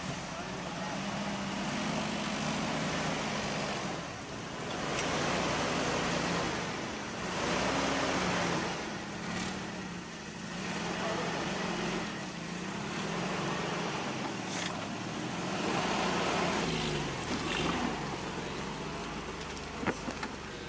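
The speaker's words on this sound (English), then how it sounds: "Now watch my 1985 Toyota walk right up the same obstacle with front and rear lockers" A 1985 Toyota 4x4 with front and rear lockers crawls up an off-road obstacle, its engine droning steadily with surging swells and rumbling under continuous wind-like noise, with faint voices mixed in.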